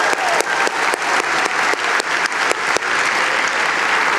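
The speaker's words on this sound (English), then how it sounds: "Give yourselves a round of applause" A large audience at a confidence-mindset seminar claps loudly, a dense continuous burst of applause filling the room from start to finish.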